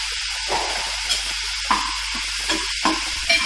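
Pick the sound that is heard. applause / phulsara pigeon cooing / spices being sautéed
spices being sautéed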